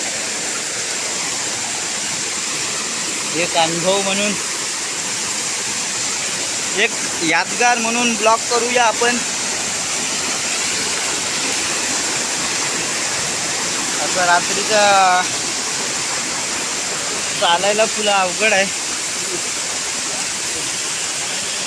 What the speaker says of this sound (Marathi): धबधबे बघा तुम्ही. धबधब्याचा आनंद घ्या. बघा हा मस्त वॉटरफॉल.